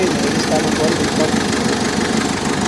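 A Mitsubishi Strada with a 4M41 diesel engine suffering from low power runs steadily at idle, a loud, close, continuous rumble with a rough knocking texture.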